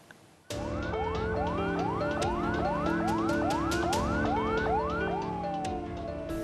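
An ambulance carrying a COVID-19 victim's body queues at Pondok Rangon cemetery in East Jakarta, its siren bursting on after a brief quiet and wailing loudly and close in fast repeating rising sweeps.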